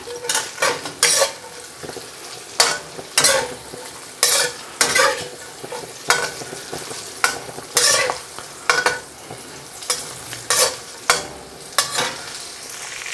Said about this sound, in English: And all we're going to do is gently toss them in this oil.